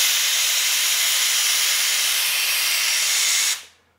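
Compressed air at 40 PSI hisses from the nozzle of a desktop laser cutter, a loud steady rush of air that cuts off abruptly near the end and quickly fades.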